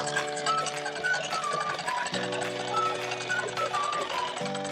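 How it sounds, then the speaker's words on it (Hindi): Sewing machine stitching a pajama seam with a half-inch margin, a steady mechanical whir with fine rapid rhythm under a tonal background, one brief break midway before stitching resumes. "इसके ऊपर से एक सिलाई हम लगा लेते हैं"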